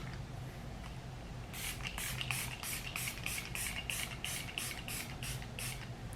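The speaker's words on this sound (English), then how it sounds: "Everybody asks about my setting spray, and it's this one from Makeup Revolution." Makeup Revolution setting spray misted onto a face: about ten quick, evenly spaced hissing spritzes close to the microphone, following a quiet stretch of room tone.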